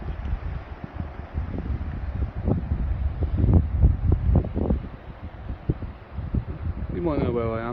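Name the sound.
strong wind blowing at riverbank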